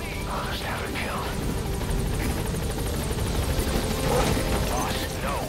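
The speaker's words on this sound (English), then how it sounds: "I'll send the extraction chopper." An extraction helicopter in the video game Metal Gear Solid V, its rotor thumping in a steady rapid beat with engine drone, loud and constant, while voices speak over it.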